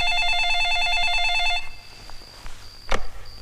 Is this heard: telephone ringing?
yes